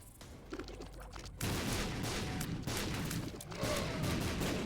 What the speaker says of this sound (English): There's way too many explosions.